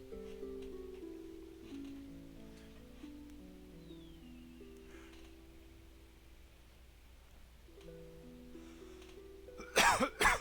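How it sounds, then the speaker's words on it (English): A cough into an unmuted microphone: two or three sharp, loud close-up coughs bursting out at the very end after soft sustained background music. "I didn't mute my mic when I coughed"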